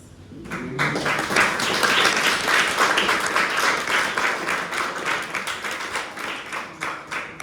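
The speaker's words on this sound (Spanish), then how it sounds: "No debieron de haber aplaudido mucho" After a presentation on hematological diseases, an audience breaks into applause that starts abruptly, swells into dense clapping, then thins toward individual claps near the end.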